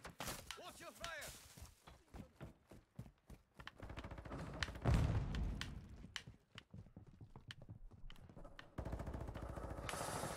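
Bursts of gunfire in Modern Warfare II online multiplayer crackle intermittently between louder game effects and an explosion-like thump, with a player talking over the action.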